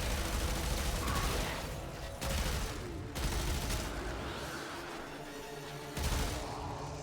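Gunfire in the video game Warframe: dense, sustained bursts of shots with brief gaps near 2 and 3 seconds and a fresh burst at the end, loud and continuous throughout.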